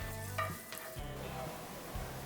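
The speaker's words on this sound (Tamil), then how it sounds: "எண்ணெய் சூடானதும் இதுல 3 பல் பூண்டை ரொம்ப சின்னதா நறுக்கி வச்சிருக்கேன்." Three cloves of finely chopped garlic fry in two tablespoons of hot oil in a pan, a soft steady sizzle close by, broken by a few low thuds of stirring, with no talk.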